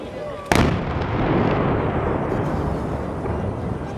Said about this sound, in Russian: где они стреляют?